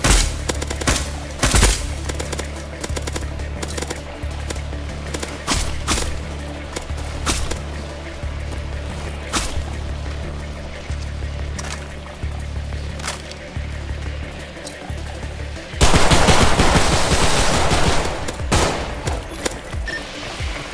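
In the video game Decaying Winter, shots are traded in dense, rapid bursts over a constant low background drone, with a louder, harsher burst of fire near the end.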